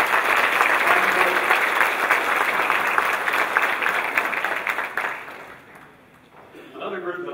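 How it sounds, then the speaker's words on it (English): Sustained audience applause for a board of directors, dense and steady for about five seconds before fading out, with brief talk resuming at the end. "Big round of applause for all the work they're doing."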